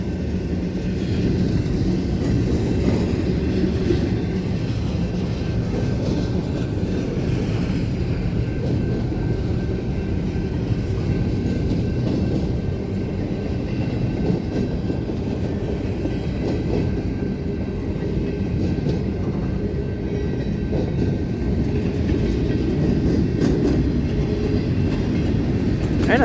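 A Union Pacific manifest freight train passing on a rainy day, a continuous low rumble of rolling railcars with rhythmic clatter from the wheels, loud and sustained throughout with no talk.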